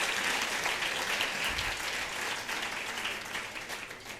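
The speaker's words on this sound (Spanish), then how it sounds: "un aplauso a vosotros mismos por estar aquí y discutir" Audience applause at a European enlargement debate event in Navarra, Spain: steady, dense clapping from a crowd, fairly soft and sustained throughout with no talking.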